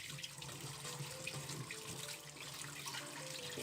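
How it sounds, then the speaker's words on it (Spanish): A kitchen tap runs water over cauliflower to rinse off vinegar, giving a soft, steady splashing stream into the sink. It is faint and continuous, with no talk. "Nuevamente le doy una enjuagada para quitarle el vinagre."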